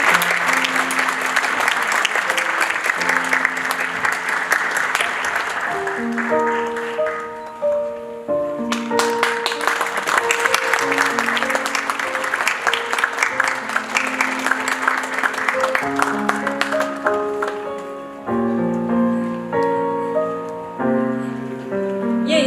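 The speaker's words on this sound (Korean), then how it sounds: "여러분 큰 박수 부탁드립니다" Audience at a church's 50th anniversary civic gathering in an arts hall applauding, with musical tones ringing through the clapping; the applause swells, drops off briefly twice and resumes, leaving the music more exposed near the end.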